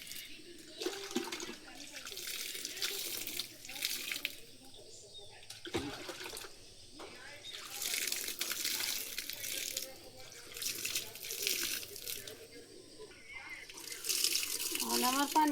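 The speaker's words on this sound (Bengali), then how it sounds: "এগুলাই পানি দিয়ে দিতেছি।" Water pours and splashes in bursts over the bases of newly planted eggplant seedlings in a village garden, a steady near gushing that stops and starts several times across the clip.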